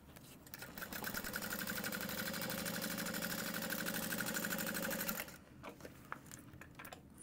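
Sewing machine stitching across the bottom seam of a Petite Alaine bag with a half-inch seam allowance: a close, steady mechanical whir running for about five seconds, then stopping abruptly.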